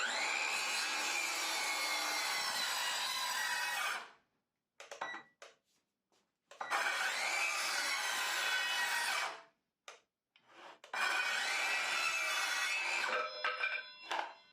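An Evolution R165CCS-Li cordless circular saw cuts wood without a dust extraction port, three loud, high-pitched whining passes each lasting a few seconds, separated by brief quiet gaps with short spin-ups and bursts.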